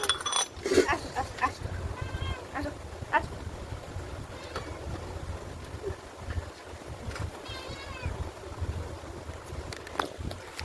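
Worship utensils clink and clatter as they are placed one by one into a basket, giving sparse metallic taps and rings close by, with a voice talking intermittently.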